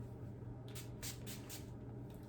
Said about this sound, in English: I'm going to spray me down with All Nighter.